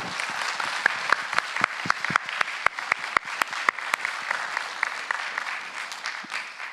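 An audience applauds after a conference talk at a gaming event, steady dense clapping with several sharp nearby claps standing out, continuous throughout.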